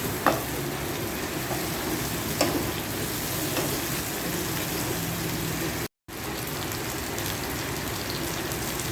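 Shrimp fries with garlic sauce in a pan, giving a steady, close crackling sizzle with occasional stirring scrapes and a brief dropout near the end, no talking.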